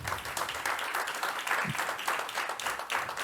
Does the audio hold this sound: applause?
yes